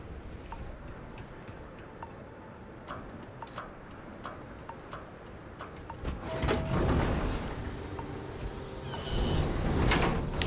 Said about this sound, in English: it's like the slowest door in the world